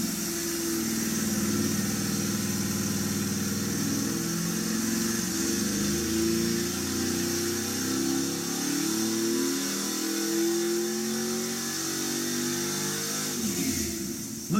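A 2010 LSX 427 big block V8 runs on a dyno with a 1-inch carburetor spacer fitted, holding a loud, steady roar that climbs in pitch as it revs under load, then drops off sharply at the end.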